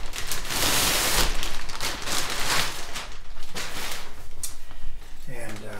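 Gaming chair seat back in a plastic bag being pulled from a shipping box, rustling and crinkling in bursts, close and fairly loud, with someone speaking.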